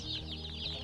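Young broiler chicks in a brooding house, clucking and cheeping while being weighed, a brief, faint run of peeps with a low hum underneath.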